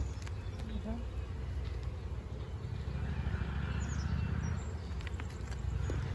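Bees hum and buzz continuously around a hive in a soft, busy drone, with occasional individual insects passing close and faint outdoor noise around.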